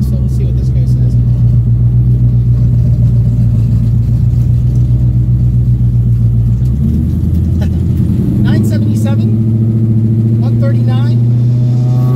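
A Coyote-swapped drag car with a 6R80 transmission, running on low boost at the track, rumbles loudly at a steady idle, then its engine note shifts and stutters into a rougher, uneven burble; brief voices come in near the end.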